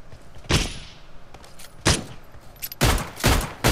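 R45 revolver firing in the mobile game PUBG Mobile: about five loud, sharp gunshots spaced irregularly, with the last few coming quicker, each with a short booming tail and no talk.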